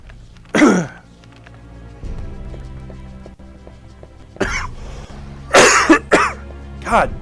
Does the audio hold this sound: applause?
no